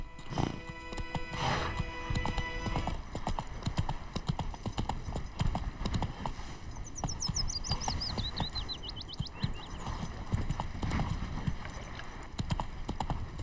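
Horse hooves clip-clopping in a steady gallop in The Witcher 3, continuous rhythmic thuds with a brief whinny and ambient birdsong, loud and close.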